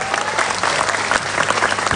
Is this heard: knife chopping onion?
no